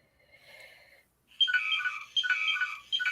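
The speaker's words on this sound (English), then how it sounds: "I gotta stop my phone from making all these noises" A phone gives off notification chimes: a faint tone, a brief pause, then a louder run of bright, warbling electronic beeps in quick bursts, close by and with no voices.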